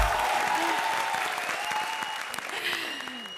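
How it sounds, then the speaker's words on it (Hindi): A studio audience on a televised comedy show breaks into loud, sustained applause, a dense wash of clapping that holds steady and slowly tapers off. "बजाओ ताली इसी बात पे।"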